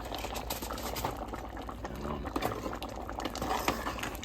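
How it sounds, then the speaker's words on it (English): A pot of pigtail stew peas with spinach bubbles on the stove, giving a soft, steady simmering gurgle close by with no voices. "Pot go bubble, you know."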